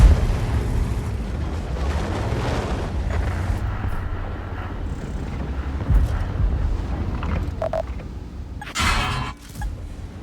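A tank cannon firing a high-explosive round in a heavy-tank video game, with a deep boom and rumble followed by a sharper burst near the end, set against constant engine and battle noise.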